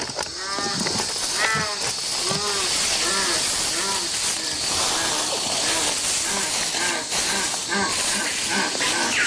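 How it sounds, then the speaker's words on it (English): A recorded jaguar call plays from an MP3 player through speakers into the Amazon rainforest: a rhythmic series of hoarse, repeated grunting calls over a steady hiss, with a voice narrating over it. "An MP3 player and speakers broadcast a jaguar call into the jungle."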